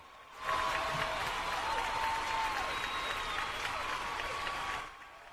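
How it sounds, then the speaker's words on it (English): A steady round of applause sound effect swells in, holds at an even level and then fades, a dense wash of many hands clapping with no voices. "let me hit the round of applause, man"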